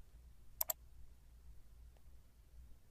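Two quick, crisp computer mouse clicks in close succession, then a fainter single click a moment later, all quiet against near silence.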